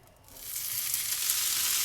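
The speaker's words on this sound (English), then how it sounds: "Oh, it's got a lovely sizzle." Wagyu beef bacon hits a hot pan and breaks into a loud, steady hiss of frying that swells within a moment and then holds constant, with no talk over it.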